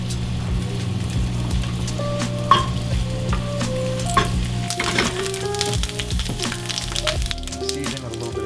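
Carrots fry in hot grapeseed oil in a pan over medium heat, a steady close sizzle with crackles and scraping stir noises throughout.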